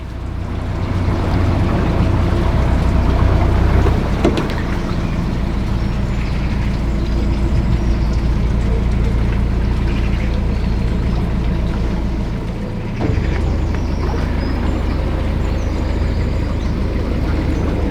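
A narrowboat on a canal glides slowly past another boat, with a steady low engine rumble and water wash running throughout, a brief dip near the end before the drone resumes.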